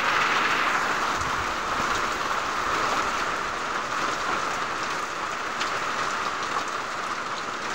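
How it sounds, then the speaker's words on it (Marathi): Heavy sudden downpour drumming on a tin sheet roof, a dense, loud, continuous hiss and patter with no voices. "आमच्या इकडे झाला अचानक जोरदार असा पाऊस चालू."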